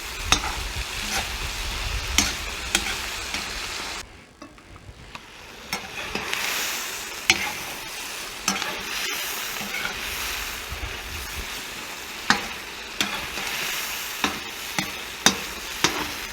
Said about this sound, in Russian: Пока я тут обжариваю мясо с луком